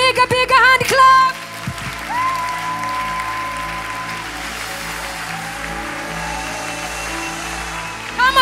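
A church congregation claps during worship, with a burst of hand claps near the start over sustained keyboard chords that carry on loudly for the rest of the stretch.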